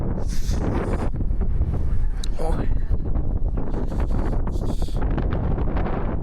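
Cold wind buffets a handheld microphone outdoors in a Belgian city, a steady low roar of gusts and rumble running throughout, with a voice exclaiming briefly over it.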